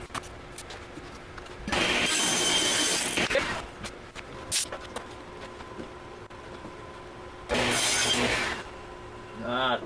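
A saw rips walnut boards into shelf material for a live-edge wall coffee bar, cutting in two loud sustained rasping passes with quieter handling and knocks between them.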